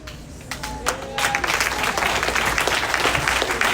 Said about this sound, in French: Applaudissez l'évangile, applaudissez le ciel.